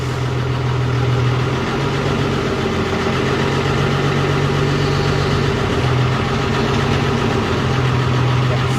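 A heavy vehicle engine runs in first gear, a steady loud low drone with slight rises and dips in pitch throughout, close and alone without talk.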